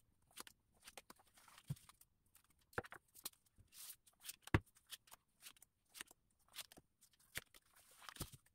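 Tarot cards shuffled and drawn by hand: soft, scattered flicks and slaps of card stock at close range, irregular and fairly quiet, with small rustles between and no voices.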